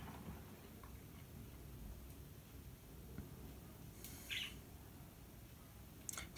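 Pet budgies give a few faint, scattered chirps, with short bright calls late on, over a steady low indoor hum beside a washing machine.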